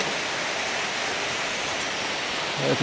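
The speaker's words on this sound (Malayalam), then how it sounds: "ആ ബ്രിഡ്ജിൽ കെട്ടിയേക്കുന്ന തന്നെ ഒരു വെള്ളച്ചാട്ടത്തിൽ കൂടെയുള്ള വെള്ളം ഒഴുകിപ്പോകാൻ വേണ്ടിയിട്ടാണ് നല്ല ഹൈറ്റിൽ നിന്നാണ് ഈ വെള്ളം വരുന്നത്" Waterfall water rushes under a bridge near Tiger's Nest Monastery in Bhutan, falling from a great height as a dense, even roar that fills the whole stretch without pause.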